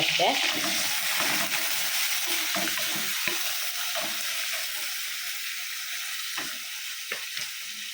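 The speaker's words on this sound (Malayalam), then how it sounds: "ഞാനിപ്പോൾ ഇതിലോട്ട് നമ്മുടെ ചെറിയ ഉള്ളി ഇടുന്നുണ്ട് കേട്ടോ ചെറുള്ളി വേപ്പില പച്ചമുളക് ഇടുന്നുണ്ട്" Shallots, curry leaves and green chilies frying in a pan for a Kerala-style fish curry, a steady close sizzle with brief stirring scrapes and clatters toward the end.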